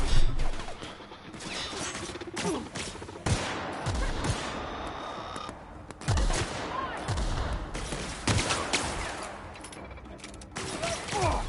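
Video game gunfire rings out in a chaotic firefight: repeated loud bursts and single heavy shots, with rattling, crashing impacts and mechanical clatter filling the whole stretch.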